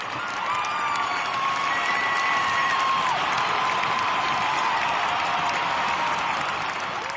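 Sustained audience applause with cheering and faint whistles welcoming a performer onstage at a 2014 salsa tribute concert, a steady, dense roar of clapping throughout.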